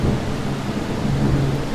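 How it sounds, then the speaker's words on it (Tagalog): Deep rolling thunder rumbling loudly through a heavy rainstorm, with rain hissing steadily on surfaces throughout the short stretch. "Grabe kulog dito guys ngayon."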